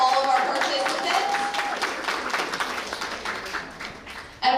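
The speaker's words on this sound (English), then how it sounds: "Let's get one more round of applause for all of our participants." Applause from the audience at a school geography bee, dense hand clapping that stays steady, then thins and tapers toward the end, with a brief voice breaking through at the close.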